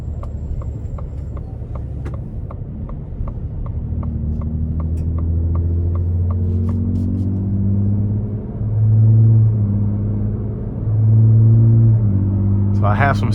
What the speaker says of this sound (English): So I'm gonna try and give it some throttle here getting on the interstate.